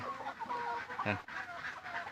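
Chickens clucking and murmuring close by while eating termites, soft repeated calls with one louder squawk, and a voice speaking faintly in the background.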